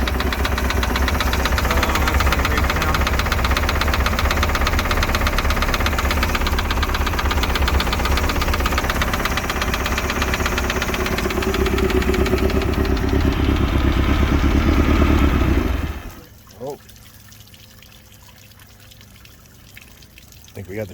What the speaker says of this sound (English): Gotta figure out what this knocking noise is.